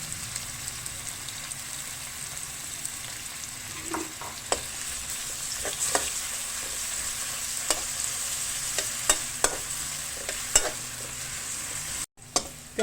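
Onions frying in oil in a kadai, a steady soft sizzle with scattered light clicks and taps of stirring throughout.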